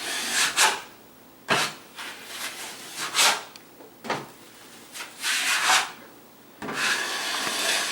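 A knife spreads a second coat of drywall joint compound over a wall patch in repeated rasping scrapes, each stroke about a second long, close and fairly loud.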